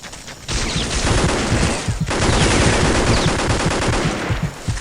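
Rapid automatic gunfire from the Vietnam War shooter game Vietcong, loud dense bursts of machine-gun fire after a brief pause, with a short break near the two-second mark before the firing resumes.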